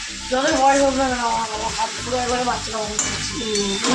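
Food being stirred in an oily pan on a gas stove, steady sizzling and frying with scraping stirs while people talk over it.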